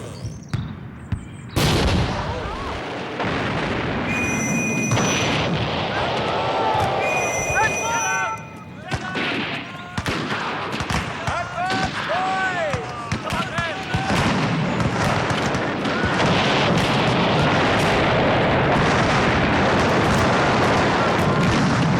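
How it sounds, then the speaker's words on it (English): Huge landmine blast planted beneath enemy lines, signalling an attack at 5 a.m., heard as a dense battlefield din of booming explosions and gunfire-like cracks running continuously and loudly throughout, with faint whistling tones mixed in. "a huge landmine planted directly under the enemy lines is the signal to attack"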